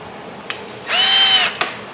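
A power drill driving rusty screws during assembly: a close, loud half-second whir bracketed by two short clicks.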